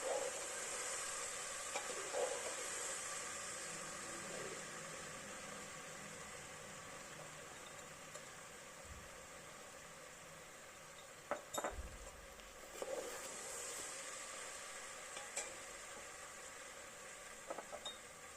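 Spice masala for veg thukpa, including Kashmiri chilli powder and garam masala, cooks in a pan, giving a soft, steady sizzle with faint stirring scrapes and a few sharper clinks.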